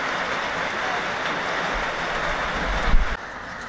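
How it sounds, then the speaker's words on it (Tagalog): Heavy rain pours steadily on a mountain road between Baler and Casiguran in Aurora, a dense broadband hiss filling the scene, with a brief louder burst near the end before it eases slightly. "Lakas ng ulan."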